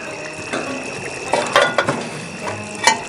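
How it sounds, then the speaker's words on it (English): Venison stew simmers in a cast-iron Dutch oven over a campfire and charcoal, with a soft bubbling hiss broken by a few sharp metallic clinks and knocks, close by, without speech. "It's been simmering along real nice."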